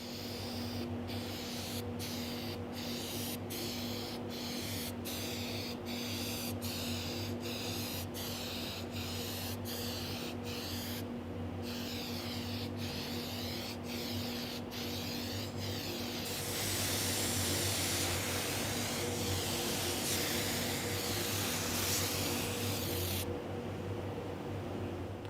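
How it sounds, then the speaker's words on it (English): Undercoating and then 3M body protection coating spray onto a vehicle panel: first a series of short, rhythmic hissing bursts, then a longer continuous, louder spray, ending with a brief hiss against steady shop hum. "we're going to use some undercoating on this half of the panel, and then over here I'm going to go ahead and spray it with our body protection system"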